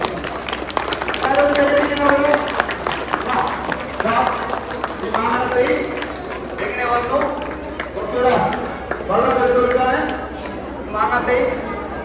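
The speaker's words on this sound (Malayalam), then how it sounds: "എല്ലാവരും കൈയടിച്ച് നോക്കട്ടെ" An audience at a wedding stage magic show claps along in bursts between the performer's steady talking, the applause fairly close and mixed with crowd chatter throughout.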